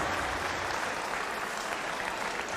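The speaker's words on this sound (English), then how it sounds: "The Pole applauds the crowd. He says thank you for your support." Indoor athletics meeting crowd applauding as Polish athlete Šimon Mazur leaves the competition, a dense, steady wash of clapping from a large audience, continuous and fairly loud.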